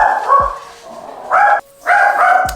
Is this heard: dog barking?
yes